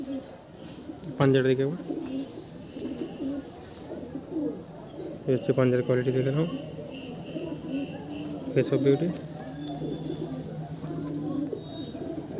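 Pigeons coo in a loft, several rolling bursts spaced a few seconds apart, close by, while someone talks over them throughout.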